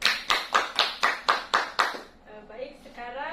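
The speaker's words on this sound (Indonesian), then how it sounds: "Tepuk tangan yang meriah untuk Katrin." Seven sharp, evenly spaced claps of classroom applause ring out in a steady rhythm during a sixth-grade teaching session, then stop as a voice begins speaking.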